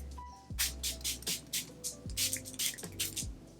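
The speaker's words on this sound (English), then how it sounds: "I'm going to use my Revolution Fix and Glow setting spray." Revolution Fix and Glow setting spray sprayed onto a face: a rapid series of short spray bursts, about a dozen quick puffs in a steady rhythm, close and fairly soft.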